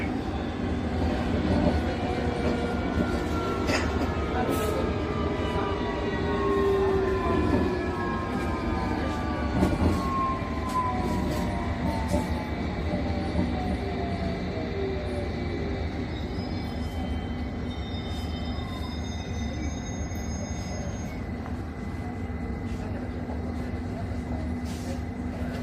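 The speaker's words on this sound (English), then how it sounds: "This is the Hammersmith City Line train to Barking." A London Underground Hammersmith & City line train runs between stations, a steady close rumble of wheels and motors with rising and falling whines and faint high squeals over the full stretch.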